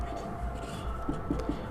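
Writing on a board in a chemistry class, a few soft close taps and strokes over low room noise, with faint speech.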